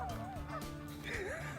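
A huge flock of about 4,000 geese squawks and yaks all at once, dense overlapping honks filling the air without pause.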